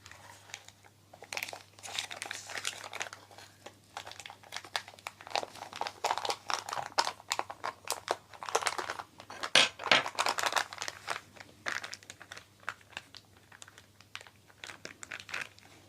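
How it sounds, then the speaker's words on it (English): Thin craft clay is peeled away from a cut-out leaf shape laid on cling film, giving close, continuous crinkling and crackling with irregular sharper snaps throughout. "Now I'm going to just peel away the leaf that I've cut out."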